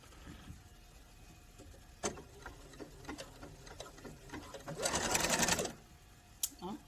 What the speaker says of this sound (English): I'm going to sew it. I took it long lengthwise, fold it in half, and I'm going to do a zigzag stitch down that